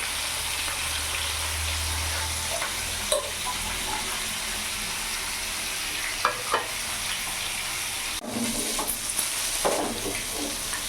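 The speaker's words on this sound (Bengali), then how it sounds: "ততক্ষণ এখানে মাছটা ভাজা হোক" Fish sizzles and fries steadily in a pan, a continuous crackling hiss with occasional clinks and stirring noises, no voices.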